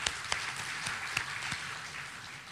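An audience applauds the people of Bandung at a speech, with a short burst of scattered hand claps that starts lively and tapers off, fairly close and under no talk.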